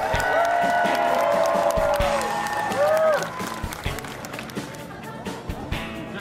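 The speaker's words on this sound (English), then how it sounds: "So give him a big round of applause." A crowd at a town celebration for the Kraft Celebration Tour in Devon claps and cheers for Jason Lee of the River Valley Bike Group, a dense, loud burst that thins out toward the end, with voices mixed in.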